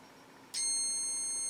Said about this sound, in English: it has like a little indicator that it's going to beep when it makes a connection